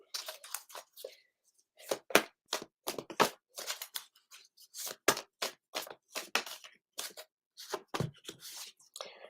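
Cards are riffled and shuffled close up in rapid crisp bursts, with brief pauses between runs of fluttering snaps.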